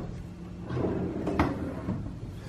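A drawer in a standard Disney World resort hotel room slides and bumps shut, giving a soft wooden scrape and a couple of quiet knocks in a hushed room.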